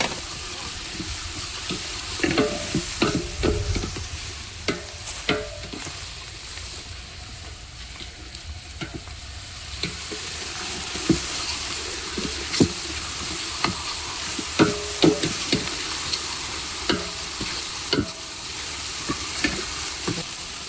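Garlic paste fries and sizzles in a pan while being stirred for a chicken masala gravy, a continuous hiss with intermittent scraping clicks of the spoon, close and moderately loud.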